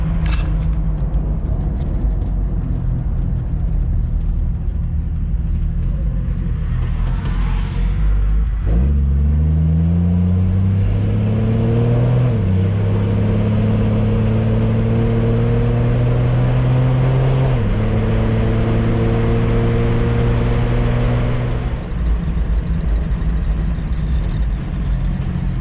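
A 1965 Ford Mustang coupe engine runs while driving, a loud close rumble with rising revs that shift and climb through gear changes, steady and continuous with no talk.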